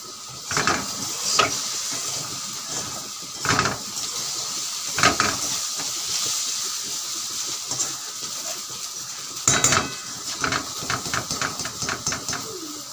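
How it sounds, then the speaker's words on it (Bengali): Potatoes fry in a kadai, a constant hiss of hot oil with several sharp clatters of utensils against the pan scattered through, and no talk. "এ দেখো আলু ভাজা করছি"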